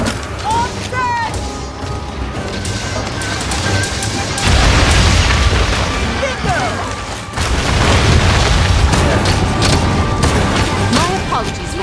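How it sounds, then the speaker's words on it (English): A bomb detonates in Monster Hunter Rise Sunbreak during a Jyuratodus hunt, heavy booming blasts and crashing impacts amid game music and effects, loud and dense, with someone talking over parts of it. "I placed the trap! I put down a bomb!"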